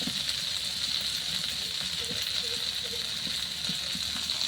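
Okra and pointed gourd frying in a pan give a steady, close sizzle with a constant bright hiss. Faint crackles run underneath, and no one speaks.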